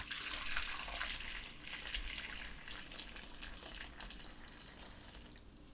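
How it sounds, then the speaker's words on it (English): Hot water poured into a pot over cauliflower florets gives a steady, close splashing and hiss that eases slightly as the pour goes on, with no talking. "Add the cauliflower to a pot and pour in enough hot water to fully cover it."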